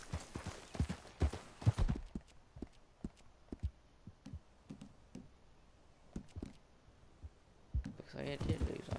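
Horse hooves clip-clopping in Red Dead Redemption: a faint, uneven series of clopping steps, busier and louder at first, then sparser, ending in a rustling burst.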